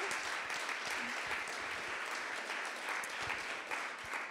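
An audience applauds the demo day projects at an ESCP Paris and Le Wagon event, a dense, even clapping that holds steady from start to finish with no voices over it.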